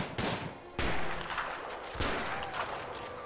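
Gunfire from the video game Prison Architect: three loud, heavy booming shots about a second apart, each trailing into a noisy rumble, close and dominant.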